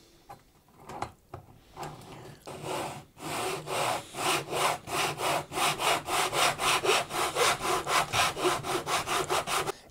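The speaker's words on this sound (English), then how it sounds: "We're ready to cut our nut line." A hand saw cuts the nut slot on a custom Telecaster guitar build, starting with a few hesitant strokes, then settling into a steady back-and-forth rasp of wood, close and moderately quiet with no talk.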